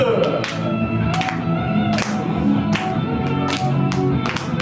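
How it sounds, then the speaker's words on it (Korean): Children at a church children's worship service clap steadily along to a lively worship song. The claps are evenly spaced and sit under loud music and singing throughout. "박수!"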